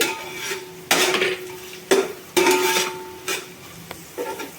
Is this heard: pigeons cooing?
no